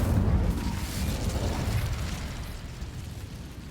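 Incendio fire spell blast in Hogwarts Legacy, a loud booming burst at the start that rumbles on and slowly fades away.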